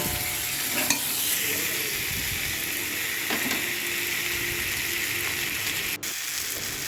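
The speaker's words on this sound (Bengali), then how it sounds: "ফ্লেমটাকে কমিয়ে রেখে ভালো করে আলুটাকে ভেজে নেব" Potatoes frying with onion masala in a pan over a low flame for a Bengali katla fish dish, giving a steady, close sizzle with occasional stirring scrapes and no talk.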